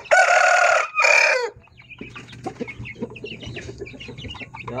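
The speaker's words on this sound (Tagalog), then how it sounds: "Tingnan natin doon yung mga sisiw ng ating Gold Shamu, no?" Golden Shamo chickens heard up close in a coop, first two loud drawn-out harsh calls, then softer scattered clucks and peeps from chicks with a low background hum, and no talking.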